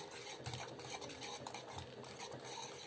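Chocolate melting with butter in a pot while a spoon stirs it, soft repeated scraping and clinking strokes at close range, low in level.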